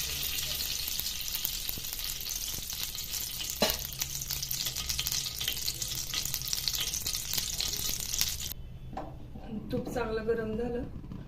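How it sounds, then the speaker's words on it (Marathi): Ghee sizzles in a kadhai with a loud, steady frying hiss and occasional stirring scrapes, then quiets sharply, and a voice speaks briefly at the end. "एक छोटी वाटी तुप घालून घ्यायचे कढईत"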